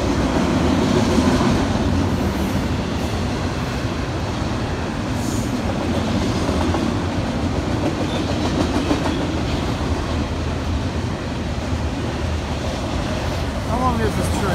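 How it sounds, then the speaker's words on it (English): A long freight train rumbles past close by in a continuous loud roar, with rhythmic wheel clatter on the rails throughout and faint voices underneath. "How long is this train?"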